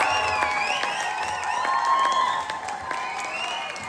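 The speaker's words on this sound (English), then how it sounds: "Please give a big round of applause." An audience at a Tibetan community evening in France applauds a six-time world boxing champion, with sustained clapping mixed with whistles and cheering voices close by.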